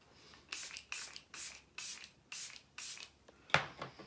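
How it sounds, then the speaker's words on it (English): Makeup setting spray misted from a pump bottle in short hissing bursts, about six evenly spaced sprays close up, ending in a sharper click or tap. "Oh, a little bit of setting spray."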